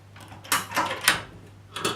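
Welding angle clamp being tightened, a few short metallic clicks and ratcheting scrapes in separate bursts, close and fairly loud with quiet pauses between.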